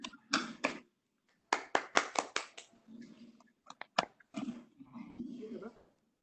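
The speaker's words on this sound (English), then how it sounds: "let's have a big round of applause for Amit bhai" A few people at an online community meeting clap in short, scattered bursts separated by silence, with voices heard in between.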